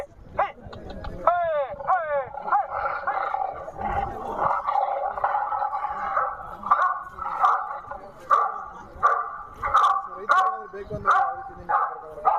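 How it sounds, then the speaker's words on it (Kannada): A solar-powered animal repeller plays recorded dog barking loudly and close by, in repeated electronic bursts with a warbling tone, while people talk over it. "ಆಮೇಲೆ ಬೇರೆ ಬೇರೆ ಡಾಗ್ ಸೌಂಡ್ ಬರುತ್ತೆ"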